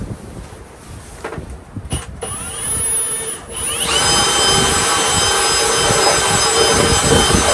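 A power drill whines as it drives a bit through sheet metal on an American LandMaster battery tender mount, starting with short bursts and then running steadily at a high pitch, with some wind rumble on the microphone.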